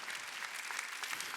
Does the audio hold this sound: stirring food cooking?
no